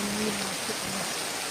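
Rain falling steadily outdoors at night, a dense, even hiss of drops that fills the whole moment without pause.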